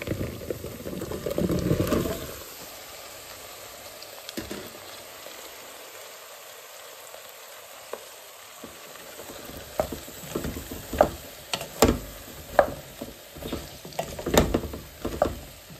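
Pitha drops into hot oil and fries with a loud, bubbling sizzle that fades to a quiet hiss, then picks up again as crackling pops and spatters scattered over the steady frying.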